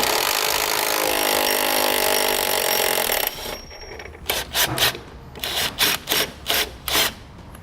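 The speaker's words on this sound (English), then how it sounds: "we're going to want to pull that bolt out, so we can grab a 21mm socket and pull it out." A 21mm socket on a ratchet works a cab mount bolt out of a 2016 Chevrolet Colorado truck. A steady grinding rasp runs at first, then stops and gives way to a run of short, evenly spaced ratcheting bursts, close and fairly loud.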